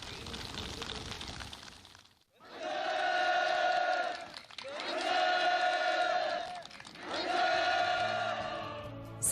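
Enthusiastic crowd applause and cheering from participants at a housing move-in ceremony on a farm village in North Korea, coming in three long loud swells separated by brief pauses, with voices carried in the cheer.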